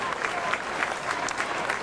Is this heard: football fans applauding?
yes